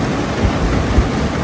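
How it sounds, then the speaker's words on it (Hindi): Heavy rain pours outside, a loud, dense and steady hiss with a couple of low thumps. "फुल तेज स्पीड में जो है वो बारिश चल रही है।"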